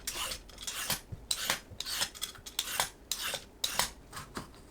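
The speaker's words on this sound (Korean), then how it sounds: "늙은 오이는 양 끝은 손질하고 껍질을 벗깁니다." An old cucumber being trimmed at both ends and peeled in a kitchen, giving a series of close, dry rasping scrapes in a steady rhythm with brief gaps, with no talking.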